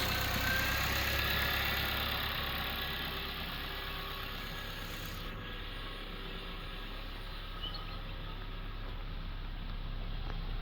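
A car engine idles smoothly and steadily at close range, a constant even hum with no talking.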